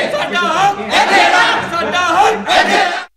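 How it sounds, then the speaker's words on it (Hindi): Protesting Class IV education department employees holding banners and chanting slogans at Hall Road Education Complex, Faisalabad, over two months of unpaid salaries; loud, close rhythmic group chanting in repeated bursts, cut off abruptly at the end. "हाथों में बैनर्स थामे मुजाहिरीन ने शदीद नारेबाजी की"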